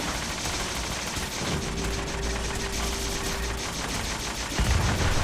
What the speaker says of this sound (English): Cool, they're not shooting at me.